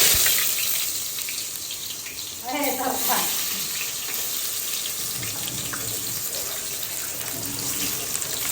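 Chopped onion (kanda) hits hot oil in a home kitchen pan and sizzles steadily, a bright hissing wash that runs throughout, with a brief clatter early on.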